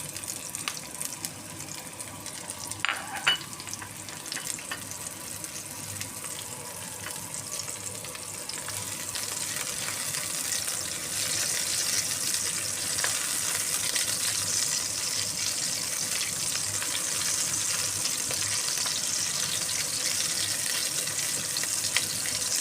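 Onion and garlic sautéing in a pan until golden brown, the base for a patola and baby shrimp dish, making a continuous sizzle that grows gradually louder and steadier, with a few light utensil knocks early on and no voices.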